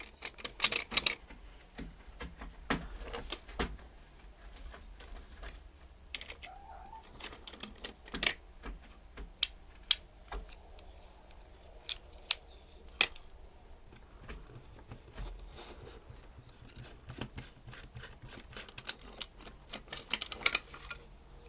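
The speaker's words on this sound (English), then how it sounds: "This is just a little ratcheting action." Gears inside a TOMY Power Up Speedway toy race track ratchet, producing a long run of small, irregular clicks and ticks, close and fairly quiet, with no talking.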